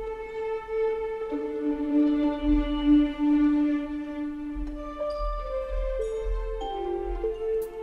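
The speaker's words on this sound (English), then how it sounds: "this is Arcus, another Native Instruments library, and this is called Burning Orchestra" The Burning Orchestra patch from Native Instruments' Arcus library gives a soft, eerie orchestral texture of sustained, slowly shifting tones over a low rumbling pulse, moderately quiet and alone.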